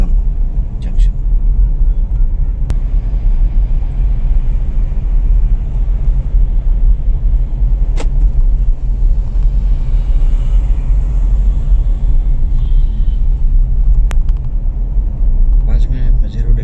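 Steady road rumble inside a Pajero SUV driving on the Khajaguda road toward Raidurgam junction, loud and continuous with a few faint clicks.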